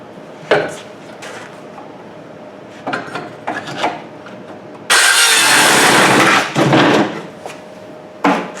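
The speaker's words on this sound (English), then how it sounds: "then I'm going to take a reciprocating saw and then finish it off on the" Reciprocating saw cutting through wood at the corners of a homemade solar battery cabinet for Trojan T-105 batteries: a loud, harsh, rasping burst of sawing lasting about a second and a half, between short scraping and knocking sounds from the work.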